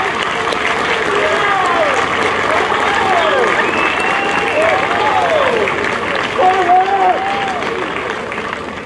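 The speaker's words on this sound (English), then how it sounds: "give your parents and guardians a round of applause for all they've done for you" High school graduates at the 2017 New Milford High School graduation give their parents and guardians a loud, steady round of clapping, with cheers and whoops rising over the dense crowd noise.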